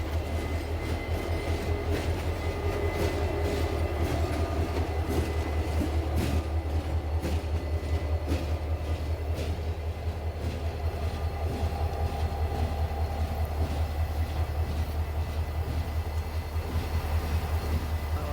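A freight train rumbles steadily past near Oakwood Yard in Detroit, wheels clacking rhythmically over the rails with occasional faint squeals, continuous and fairly close.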